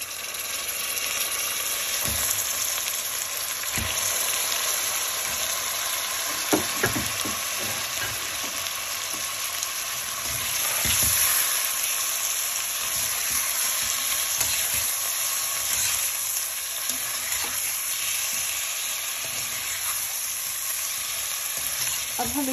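Chicken pieces fry with lightly golden onions in a pan for a chicken salan, giving a continuous, even sizzle with faint stirring scrapes and small clatters, no voices over it.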